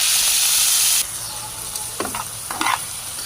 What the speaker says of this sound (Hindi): इसी फ्राई पैन में हम आलू डालेंगे।